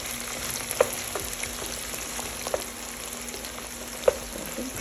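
Onions and mushrooms frying in hot oil in a skillet for country-style pork chops and gravy, a steady broadband sizzle with a few sharp pops and utensil taps spaced across the clip, close and moderately loud, no talking.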